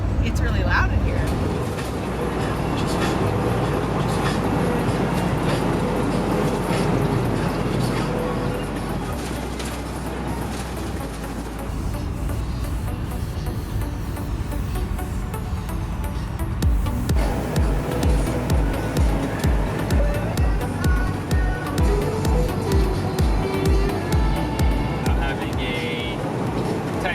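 A rented RV rolls along the road, its cabin filled with a constant low rumble, rattles and road noise while people talk over it throughout.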